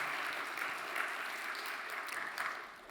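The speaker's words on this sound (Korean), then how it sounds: "박수를 한번 보냈으면 좋겠습니다" A church congregation claps together at a Friday evening worship service, a steady, dense wash of applause lasting a few seconds with slight swells before easing off.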